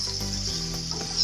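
Chicken and potato curry cooks in a pot, giving a steady close sizzle and bubbling hiss with faint stirring clatter, no voices over it.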